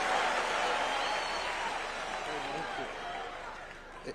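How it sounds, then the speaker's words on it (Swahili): Crowd at a State House gathering of village elders applauding, a dense, steady wash of clapping that fades slightly toward the end, with voices mixed in. "Pigeni makofi."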